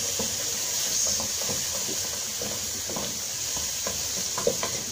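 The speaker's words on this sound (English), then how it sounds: "Keep stirring to avoid them to burn." Tomatoes sizzling in a hot pan while being stirred, a constant hissing fry with light scraping and tapping of the spoon throughout.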